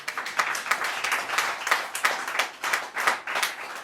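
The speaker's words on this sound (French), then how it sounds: "Si tu es d'accord, acclame très très fort le Seigneur" Congregation at a French-language church service clapping rhythmically and loudly, a dense steady beat of hand claps filling the whole stretch with no talk over it.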